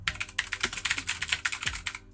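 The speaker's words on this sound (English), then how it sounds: "blue switches, super clicky" Rapid, crisp clicky keystrokes from a Gamemax Strike RGB mechanical keyboard with blue switches, typed in a steady burst up close with no voices.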